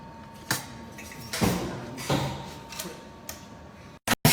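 Automatic robotic bolting machine on a Kangen water plate production line: a few separate mechanical clunks and whirring slides at uneven intervals against a low factory hum, ending in sharp clicks.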